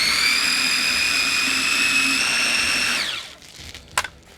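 A food processor whirs at a steady high pitch while chopping cilantro for chimichurri, running loud and close for about three seconds before winding down, followed by a brief clunk of the lid or bowl.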